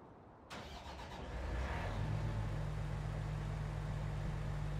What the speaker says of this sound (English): Pretty much the stock standard sound for a combine harvester.